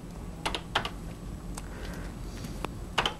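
Keys clack on a Color Computer keyboard as a program is typed in, a few separate taps and short bursts of keystrokes over a steady low hum.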